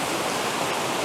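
A waterfall in a woodland rushes in a dense, steady roar of broadband water noise, close and continuous with no other sounds standing out.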